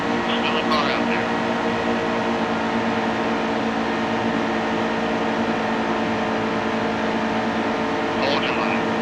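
Steady engine drone of a car in a racing video game, holding constant and loud throughout under a dense, unchanging tone with brief higher bursts near the start and end.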